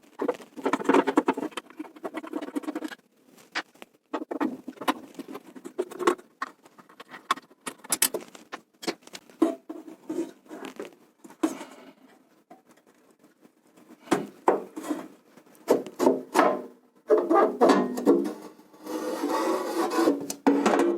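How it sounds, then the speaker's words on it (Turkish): Screws are being worked loose from the fan motor of a combi boiler, giving close, irregular bursts of scraping, rasping and ticking with short pauses between, no talking. "Bir iki vida var. Onları söküyorum."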